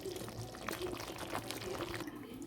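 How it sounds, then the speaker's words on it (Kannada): Puliyogare powder stirred into a pot of boiling jaggery and tamarind gojju, soft bubbling and sloshing with faint spoon scrapes, quiet and close. "ಇವಾಗ ಪುಳಿಯೋಗರೆ ಪೌಡ್ರನ್ನ ಹಾಕ್ಕೊಳ್ತಾ ಇದ್ದೀನಿ"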